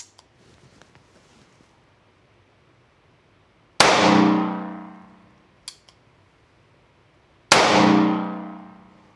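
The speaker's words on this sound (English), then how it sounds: "Let's shoot two rounds back to back." Bond Arms Stinger RS 9mm pistol fired twice at a range, two sharp loud reports a few seconds apart, each ringing out and fading, with a faint metallic click between them.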